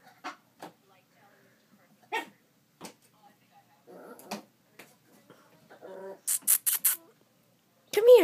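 A poodle puppy barking at its own reflection indoors: several short, sharp yaps scattered through a quiet room, with a quick burst of high squeaky barks near the end and a final louder yelp.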